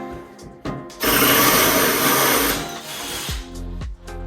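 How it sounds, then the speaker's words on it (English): A power drill bores holes into a bathroom wall while a shower system is being installed, running in one loud sustained burst of about a second and a half, with short whirring bursts and clicks before and after. "Let's drill some holes."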